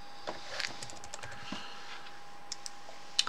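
A keyword is typed on a computer keyboard: a handful of light, scattered keystrokes, faint and close, with a sharper click at the end.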